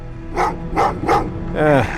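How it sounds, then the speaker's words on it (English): Dogs bark in the video game Terminator: Resistance, four loud barks at a steady pace, the last one drawn out and whining, over a low game hum. "what's with the dogs?"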